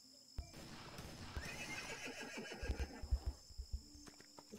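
In a Wild West video game, a horse whinnies loudly in a long, wavering call, followed by a quick run of hoofbeats clopping close by.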